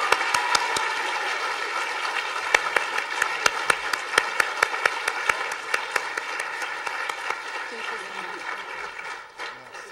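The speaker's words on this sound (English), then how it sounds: "Please feel free to one more round of applause for Mr. Reynosa." Audience applause for a speaker at an event, a steady wash of many hands clapping for the whole stretch, with a few sharper individual claps standing out partway through.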